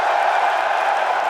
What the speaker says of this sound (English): A cheer from the right.